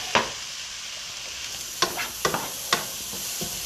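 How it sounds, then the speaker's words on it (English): Garlic stirred in a hot pan for ribs sizzles softly and steadily, broken by several sharp utensil scrapes and knocks against the pan, one early and a cluster of three or four later; no voices. "All right, we're going to mix that up."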